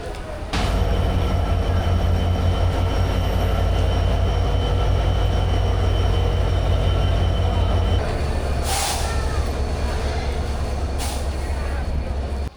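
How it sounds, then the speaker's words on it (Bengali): A train pulls into Rajshahi railway station: a loud, steady rumble of rolling wagons and wheels that shifts and eases after about eight seconds, followed by a couple of sharp hissing or squealing brake bursts near the end. "ঠিক দুপুর 1টার সময় ট্রেন এসে পৌঁছালো স্টেশনে।"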